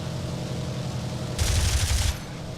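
Pilot-controlled machine gun on a bomber in War Thunder fires one sustained burst of about a second, loud and rattling over steady engine drone, with no talking.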